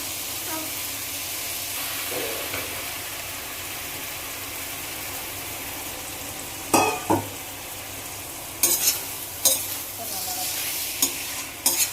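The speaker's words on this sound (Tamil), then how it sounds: "ஸோ இந்த ஸ்டேஜில் சிக்கன்லாம் உள்ளே போட்டுக்கிறேன்." Chicken pieces frying in a sautéed onion gravy base for chicken gravy, with a steady sizzle under repeated scraping stirs that come in sharp bursts later on, close and fairly loud with no talking.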